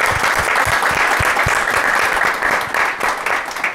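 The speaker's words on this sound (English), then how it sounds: "Once again, please, a round of applause." An audience at a women-in-football conference applauds steadily, a dense, loud wash of clapping that holds for a few seconds and eases slightly toward the end.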